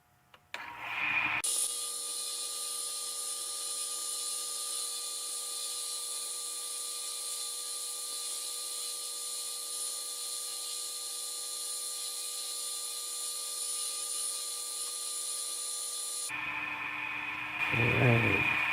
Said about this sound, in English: you can still hear it sanding